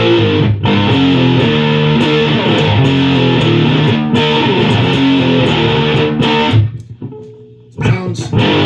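Electric guitar played through a MoVALL Absolute Zero fuzz pedal on its silicon setting, thick sustained distorted chords ringing loud with brief gaps where strings are muted, ending in a short restrum.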